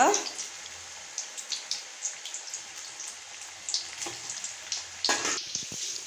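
Onion bondas frying in hot oil over a medium flame, a light crackling sizzle with small pops and a burst of louder bubbling near the end, a voice talking over it.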